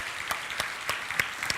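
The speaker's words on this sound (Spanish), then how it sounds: "Lo hacemos con este aplauso." Short burst of congregational applause at a Spanish-language church service welcoming a family of the faith, scattered sharp claps rising over a steady wash of hand noise, fairly close and moderately loud.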